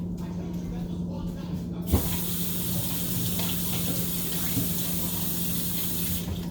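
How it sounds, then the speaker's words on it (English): Running water from a kitchen tap as a knife is rinsed under it during meal prep, a steady broadband hiss that starts abruptly, with a brief clatter near the start and a constant electrical hum underneath. "I gotta rinse my knife"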